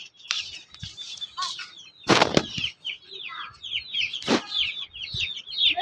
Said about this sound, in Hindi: आपको चूजे दिखा दूं